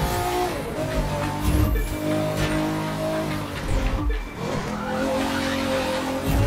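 Nissan Skyline race car boosting with nitro in the racing video game The Crew 2, a loud sustained engine roar with rising and falling revs, brief tire squeal and whooshing, steady and close throughout.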